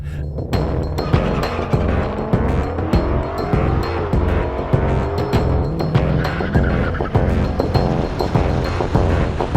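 Ford Mustang GT500 launches hard on a drag strip with a loud, sustained engine roar, rising gear pulls and tire noise, close and dominant throughout with no talk.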